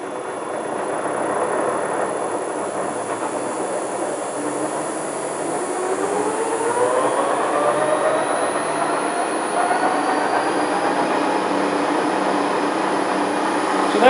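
A gearbox spinning on a test bench: a steady mechanical whine and rumble, rising in pitch as the speed climbs, with a broadband grinding hiss underneath; continuous and fairly loud.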